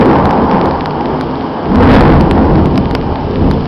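Thunderstorm in Greece: steady heavy rain pours throughout while a deep rumble of thunder swells loudly midway and rolls on, with no voices.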